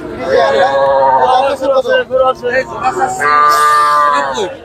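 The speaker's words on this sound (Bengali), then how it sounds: "এই যে আমার সামনে যে গরুটা দেখতে পাচ্ছেন কি জাতের?" A cow gives loud, long moos close by, with a short broken call between them, over a babble of voices at a busy market.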